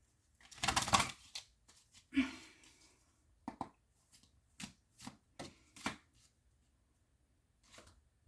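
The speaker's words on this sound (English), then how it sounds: "I will pull one more card and then we'll wrap it up." Oracle soul cards are shuffled and pulled in a run of close, crisp riffles and slaps, a burst near the start and then sparser separate flicks with gaps of quiet.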